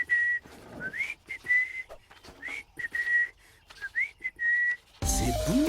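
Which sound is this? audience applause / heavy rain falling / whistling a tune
whistling a tune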